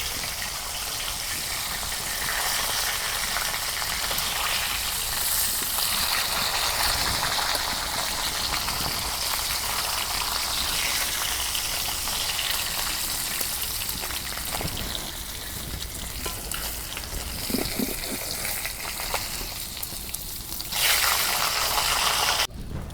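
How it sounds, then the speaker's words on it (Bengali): Rupchanda pomfret fish frying in plenty of oil in a village kitchen, a steady, loud hissing sizzle that runs continuously with small crackles and pops throughout. "মাছ এক খোলা ভাজা হয়েছে আর এক খোলা ভাজি"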